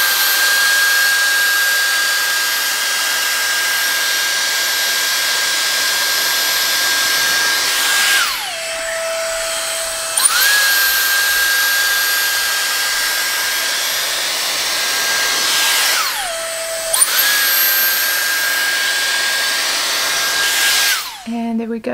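A Dyson Airstrait hair straightener blows a steady, loud airflow in dry mode, its whine holding near-constant with two brief pitch drops where the setting shifts, then resuming.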